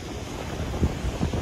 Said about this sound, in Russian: Море грязное, море волнуется, дует ветер